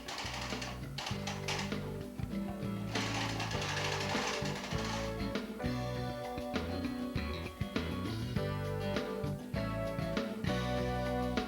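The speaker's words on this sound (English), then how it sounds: "You'll need to push your carriage slowly for the first row." A knitting machine carriage is pushed slowly across the first row, producing a loud, continuous rattling, clacking mechanical run with rhythmic ratchet-like ticks and no talk.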